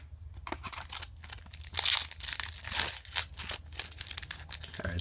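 A Yu-Gi-Oh High Speed Riders booster pack wrapper is ripped open, a close burst of foil tearing and crinkling that builds into several loud rips and crunches, with no voices.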